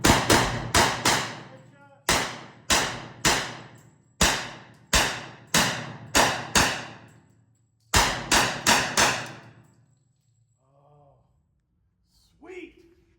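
Rapid gunfire from a KelTec Sub 2000 carbine in .40 S&W emptying a magazine, sharp close shots in quick clusters of two to four with short pauses, then faint handling noises at the end.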